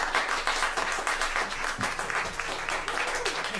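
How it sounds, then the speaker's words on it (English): An audience claps and applauds for a Sunday afternoon music act in St. Louis, dense and sustained for several seconds, moderately loud and filling the room. "If you give them a nice round of applause, I believe they'll come out and play and sing for you."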